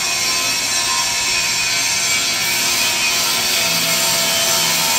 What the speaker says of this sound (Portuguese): Deixa ele o dia todo com lixadeira ligada.